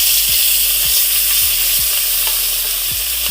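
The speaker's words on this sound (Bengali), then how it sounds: "প্রথমে দেখো মাছ ভেজে নিচ্ছে যে" Fish frying in hot oil gives a loud, continuous close-up sizzle, with a few short scrapes and knocks from stirring and no voices.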